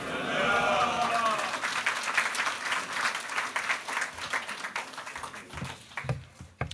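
A church congregation at a morning elders' prayer meeting applauds to welcome a pastor to the stage, a broad roll of clapping that thins out and fades to scattered claps near the end.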